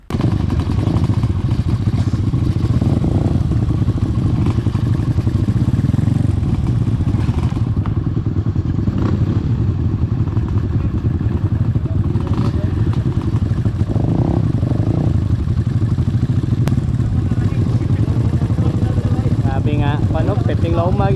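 A motorcycle grinds up a steep, difficult dirt trail on a Sunday ride, its engine droning steadily loud throughout with clattering and thumps over rough ground, while people talk over it.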